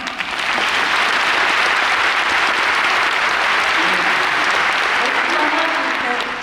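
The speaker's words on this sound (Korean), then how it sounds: "우리 세종문화회관에 다시 한번 큰 박수" An audience at the Sejong Center in Seoul, attending an opera commentary concert, breaks into loud, sustained applause that swells in and holds steady for several seconds, heard close and without speech.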